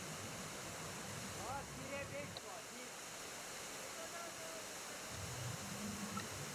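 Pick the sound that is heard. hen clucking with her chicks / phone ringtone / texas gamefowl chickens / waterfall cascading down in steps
waterfall cascading down in steps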